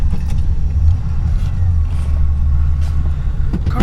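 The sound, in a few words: 1969 Lincoln Mark III car starting and running, exhaust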